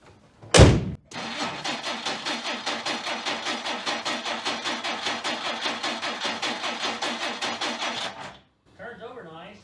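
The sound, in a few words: 1959 Plymouth Suburban engine cranking and starting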